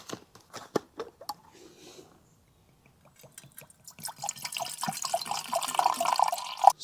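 Water is measured out to about 170 ml for a small camping stove, starting with scattered drips and light taps, then a steady close pour that fills and bubbles louder toward the end.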